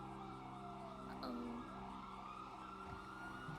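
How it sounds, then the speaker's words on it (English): A siren wails in the background of a busy video game soundscape, its pitch sweeping steadily beneath a low rumble and scattered noises. "A lot of siren."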